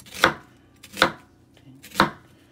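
Three sharp knife strokes on a cutting board slice through onion at a slow, steady pace, close and clear with quiet pauses between cuts.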